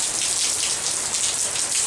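Steady, dense rain patters and hisses close by outdoors, an even wash of drops on surfaces with no voices over it.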